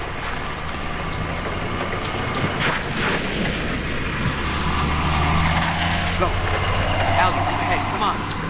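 A vehicle engine in the video game Battlefield 3 rumbles low and steadily throughout, mixed with battlefield ambience while voices talk over it.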